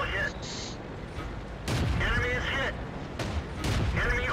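World of Tanks battle with Ram II Tier V medium tank and artillery firing: several loud booming cannon shots at irregular intervals over a rumbling background, with a voice talking over them.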